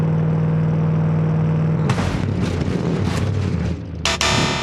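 A car driving at 60 mph into concrete walls: a steady engine drone breaks into a series of rough, loud crunching impacts and debris clatter, ending in a sharp bright burst.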